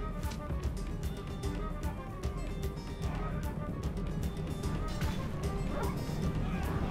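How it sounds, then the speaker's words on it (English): War dog barking in Rome Total War during a British assault, yapping and growling amid a dense battle din of crashes and clashes, with someone talking over the fighting. "Stupid war dog."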